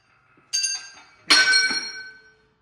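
A ball joint pops loose from a car's inner fender assembly during sheet metal work, giving two sharp metallic bangs about a second apart, the second louder and ringing out before fading.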